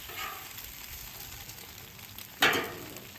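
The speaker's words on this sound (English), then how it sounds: "Even on the low temp, the eggs cook really fast, which I like." Eggs fry on a Camp Chef griddle at low temperature, a soft, steady sizzle heard up close, broken near the end by one brief sharp scrape or clatter.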